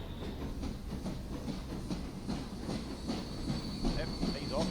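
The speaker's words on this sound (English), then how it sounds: "there's a noisy log train." A log train rolls along steadily in a Transport Fever 2 railway sim, a dense low rumble with faint rhythmic clatter and a thin high hiss throughout, at moderate loudness with no talk.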